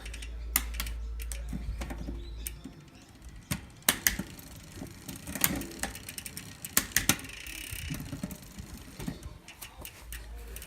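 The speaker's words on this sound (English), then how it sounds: "So just have a look at it as it goes up." A bicycle rear derailleur shifts up the cassette toward the top cog, giving a close series of sharp ticks and ratcheting clicks over a low hum at the start, with no voices.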